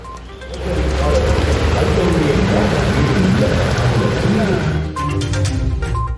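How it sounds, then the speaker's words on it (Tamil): Heavy rain pours down in Chennai's suburbs, driven by strong wind, as a loud, steady, close rush of downpour that holds for the whole stretch and eases a little near the end. "சென்னை புறநகர் பகுதிகளில் கனமழை வெளுத்து வாங்கியது"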